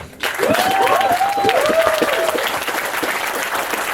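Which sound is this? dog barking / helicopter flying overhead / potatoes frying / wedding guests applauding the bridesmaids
wedding guests applauding the bridesmaids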